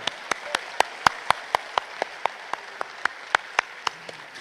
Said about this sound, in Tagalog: itaas ang kamay at pumalakpak ng mas malakas